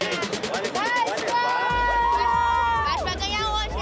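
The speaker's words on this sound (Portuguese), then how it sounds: "A animação da torcida do Vasco antes do início da partida." A stadium crowd of Vasco football fans cheers and chants loudly before the match, with sustained sung voices, overlapping shouts and a low droning hum underneath.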